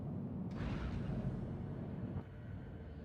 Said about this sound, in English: Boom! Random explosion.